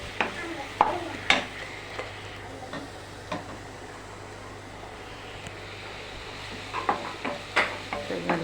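Around eight chili peppers frying in a pan, giving a soft steady sizzle with scattered crackles and pops near the microphone, with no talking.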